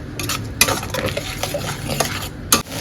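Spices and yogurt being stirred and fried in a pan while paneer is cooked, giving steady scraping and clinking of a spoon against metal with a soft sizzle underneath and a few sharper knocks.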